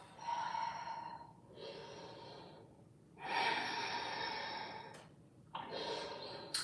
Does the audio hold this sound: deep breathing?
yes